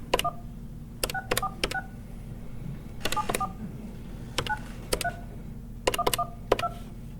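Telephone keypad tones dialed in quick clusters of four or five beeps, separated by short pauses, over a steady low hum as a dropped line is reconnected during a council meeting call.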